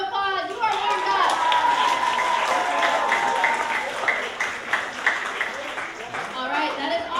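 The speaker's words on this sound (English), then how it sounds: "Give yourselves a round of applause" A comedy-sports audience bursting into applause, dense clapping with cheers and shouting voices mixed in, loud and sustained before slowly thinning out.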